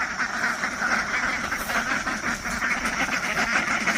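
A group of ducks quacks continuously, with overlapping calls coming in a busy, steady chorus at moderate distance.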